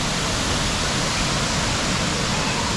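Waterfall heard from a trail partway up the falls, a dense steady roar of rushing water filling the whole stretch with no break, close and loud.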